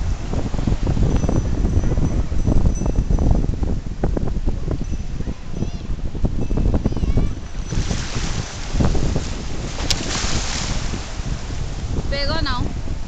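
Ocean surf churns and washes, with heavy wind buffeting the microphone and a louder wave surge near the end; a voice can be heard faintly under the noise.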